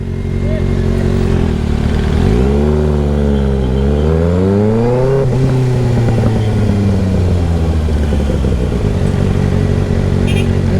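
While riding a motorcycle through heavy road traffic in the rain, a loud, continuous engine drone rises and falls as the bike revs and shifts, with wind and road noise throughout.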